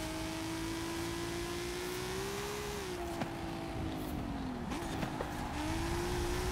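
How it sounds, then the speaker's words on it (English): Car engine bouncing off its rev limiter in a Hot Wheels racing video game, a steady high buzzing drone held almost without a break, with a few small dips and stutters in pitch, loud and continuous, no talking. "Just letting that rev limiter sing."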